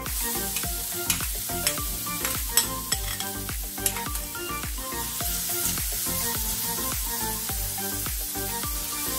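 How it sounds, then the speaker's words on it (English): Onion sautéing in a hot pan with ginger garlic paste, a steady bright sizzle with repeated scraping stirs and sharp utensil clinks throughout, close and continuous with no talk. "Saute until translucent."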